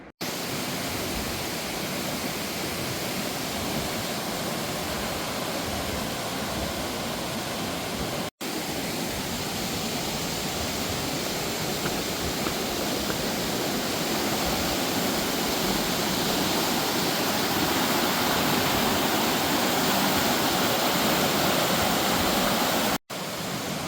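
A steady, loud roar of rushing water fills the whole stretch, constant and broadband like a nearby waterfall, with no voices; Laurel Falls on the Appalachian Trail.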